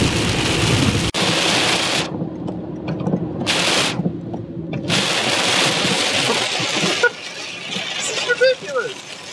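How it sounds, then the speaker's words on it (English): Heavy rain drumming on a moving car during a drive, a dense loud roar of water that surges and drops as gusts hit, with short muffled lulls and rattles. "this is the worst rain I think I've seen while driving"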